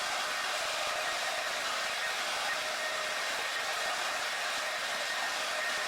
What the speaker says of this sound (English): I'm gonna start off by just rough drying my hair a little bit first